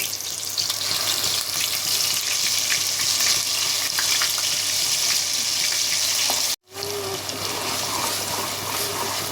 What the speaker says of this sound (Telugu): మనం వేసుకున్న ఈ మసాలా పేస్ట్ అంతా పచ్చివాసన పోయే వరకు ఫ్రై చేసుకున్నామండి